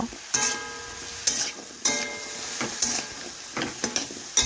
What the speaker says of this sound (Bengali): এরপর ভালোভাবে খুরপি দিয়ে নাড়াচাড়া করে সমস্ত কিছু একসাথে মিশিয়ে একটু কষে নেব।